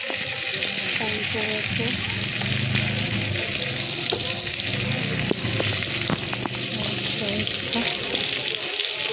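Pangas fish frying in a pan in a home kitchen, a dense, steady hiss of hot oil running throughout with a few sharp clicks of a utensil, close and loud, with a brief spoken word.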